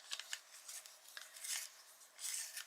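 A coloured pencil being sharpened for adult colouring: close, dry scraping and rasping in short irregular bursts, with no talk.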